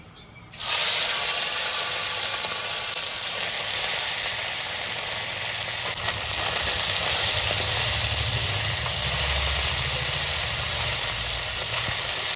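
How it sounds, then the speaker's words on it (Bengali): Hilsa fish frying in a pan, a steady broadband hiss and sizzle that starts abruptly and continues loud and unbroken throughout, with no talking. "আমার মাছ ভাজা হয়ে গেছে"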